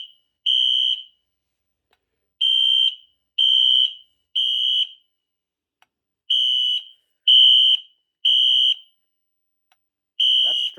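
A Wheelock fire alarm sounding during a test, giving loud, shrill electronic horn blasts in a repeating pattern of three short pulses followed by a pause.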